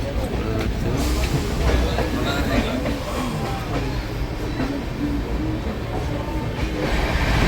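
Inside the Howrah Barmer Express passenger train, a steady, loud rumble of the moving carriage runs throughout, with faint rattles and voices under the noise.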